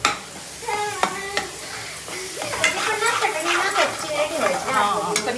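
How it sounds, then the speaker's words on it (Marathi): Masala for fish curry stirred in a pan, with a close sizzle and scraping spoon strokes that come in quick bursts, alongside fluctuating tonal sounds. "आता ही मी छान हलवून घेते"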